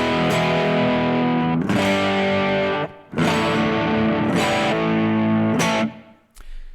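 A loud distorted electric guitar through a Kemper amp profile of a Plexi-style tone strums several sustained chords with a wash of reverb trailing each one, played alone with no voices.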